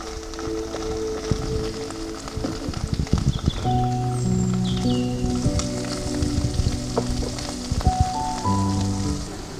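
Okra with salt and turmeric frying in coconut oil in a pan, a steady close sizzle with crackles, stirring scrapes and tonal clinks throughout, no talk.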